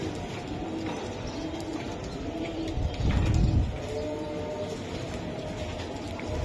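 Racer pigeons coo and murmur at close range in a loft, with soft wing flutters and a brief louder burst of flapping midway, over a steady low rumble.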